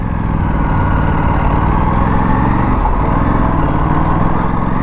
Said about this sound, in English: of the engine, the intake. It's a sweet whine that it makes